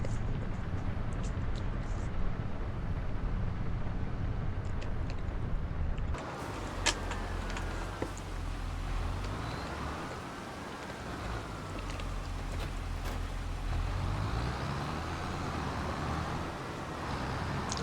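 A tractor engine runs in Farming Simulator, a steady low drone that holds throughout, shifting in tone partway through as the machine moves along.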